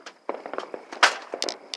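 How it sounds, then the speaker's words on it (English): Fireworks and firecrackers crackle and pop in a quick irregular burst near an abandoned, torn-down train station, with one louder bang among the sharp snaps. "A lot of fireworks."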